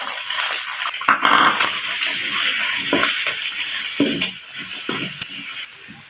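Chopped onions sizzle and hiss steadily in an oiled pan for chicken fried rice, with occasional scraping stirs and soft clinks of a spoon against the pan, close up and fairly loud, no talking.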